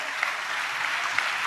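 An audience claps together during a Telugu church sermon, a steady even patter of many hands at moderate volume, without pause for the whole moment.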